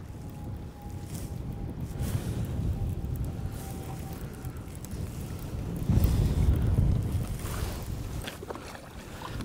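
Steady wind buffets the microphone on a lake during fall bass fishing from a boat, a continuous low rumble with a louder gust near the end; faint water sounds, no talking.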